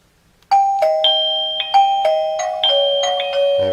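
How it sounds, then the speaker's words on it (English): An XTU J7 battery-powered doorbell camera ringer chimes through a sequence of clear, ringing electronic tones, each struck note sustaining and overlapping the next, loud and close in a quiet room. "let's see what happens when someone presses the doorbell"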